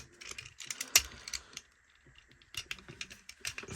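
Plastic parts of a Transformers Age of the Primes Thirteen Prima Prime toy are flipped and folded, producing close, crisp ratcheting clicks and snaps in quick clusters, a brief quiet gap, then more clicking, with no voices.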